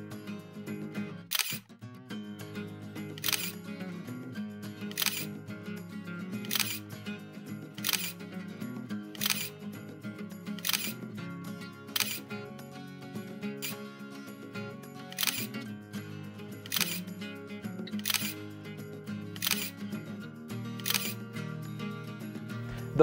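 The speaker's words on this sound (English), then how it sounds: "If you hold down the shutter in this mode, the camera will take pictures one after another in rapid succession." A Pentax K100D digital SLR fires its shutter in continuous mode, about a dozen sharp mechanical clicks at a steady, fairly quick pace, heard close and alone over a faint background.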